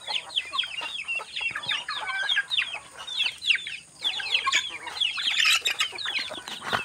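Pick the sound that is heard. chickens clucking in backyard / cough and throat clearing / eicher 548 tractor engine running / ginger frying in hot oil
chickens clucking in backyard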